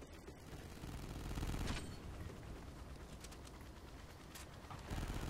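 Gunfire from weapons in the Call of Duty: Ghosts Extinction video game, a dense, continuous fusillade of rapid shots that fills the whole stretch at steady loudness, with a few sharper bursts standing out.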